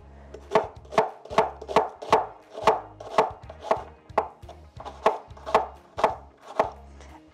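Peeled potatoes for crock pot pierogi are sliced with a knife on a cutting board, giving about fourteen crisp, evenly paced chops close by, each a sharp tap against the board, with no talking.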